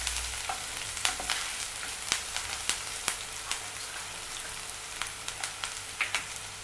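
Chopped onions frying in a pan until lightly browned, a steady soft sizzle with scattered crackles and pops, fairly quiet and alone without talk.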